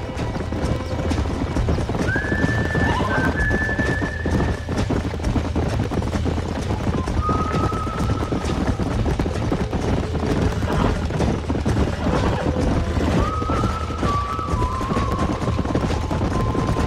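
In Red Dead Redemption, horses clop steadily over a constant low rumble, with several drawn-out neighs and whinnies rising above the hoofbeats at intervals; no one speaks.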